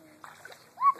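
A young child splashes into a swimming pool, one brief splash at the end after a quiet moment, with a voice faintly in the background.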